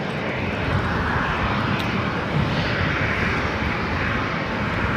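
A Delta airliner, flight 753, lands on runway 24 right at Los Angeles International Airport, its engines producing a loud, steady, broad roar that holds for the whole stretch.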